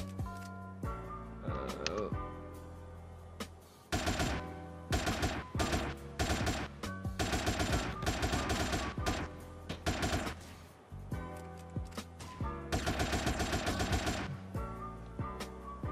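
AK rifle gunfire in the video game GTA, as loud bursts of rapid shots in repeated clusters over about sixteen seconds, with game sounds between the bursts.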